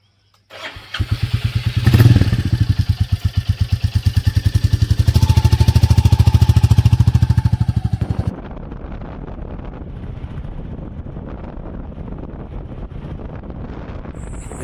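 A motorcycle loaded with luggage starts up and idles with a loud, rapid putter, revs, then pulls away. Its engine sinks beneath steady rushing wind noise as it rides along a road toward green hills.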